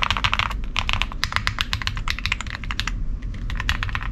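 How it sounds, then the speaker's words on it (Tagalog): Fingers type on a low-profile computer keyboard, a fast, close run of crisp key clicks and taps in irregular bursts with a brief pause near the end. "pagka nag-type, ay dyan, ganyan tunog"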